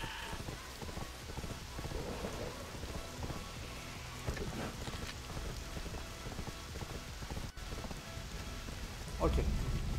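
A thunderstorm in the video game Black Desert Online brings steady rain with rumbling thunder underneath, a sharp crack near the end, and faint scattered game sounds, with no talk.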